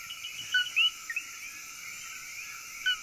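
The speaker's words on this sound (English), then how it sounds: "male frogs are calling everywhere" Coqui frogs calling at night after rain in the El Yunque rainforest, a few short, sharp chirps over a constant high insect-like drone, fairly distant and alone without voices.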